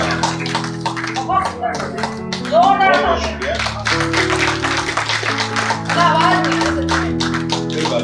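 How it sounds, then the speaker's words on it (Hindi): Audience clapping at a Hindi-Urdu poetry recital at Jashn-e-Junoon 2020, a dense patter of hand claps mixed with sustained music and voices, steady throughout. "ये जो लोग शर्मा रहे हैं ना ताली ना बजाने, आपकी कोई चोरी नहीं पकड़ी जाएगी, वहां तक तो लाइट भी नहीं जाएगी, आप भी बजाओ।"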